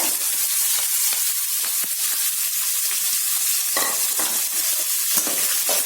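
Loud, steady sizzling of onions frying in hot oil for semiya upma, with occasional scraping stirs of a spoon in the pan, close up and without talk.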